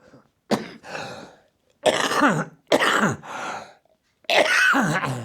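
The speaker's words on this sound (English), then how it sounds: "The coughing is also a side effect of, because it dries your lung out totally." Harsh, raspy coughing fits close by from a person undergoing radiotherapy for lung cancer, four bursts separated by short pauses, each with a rough throaty rattle.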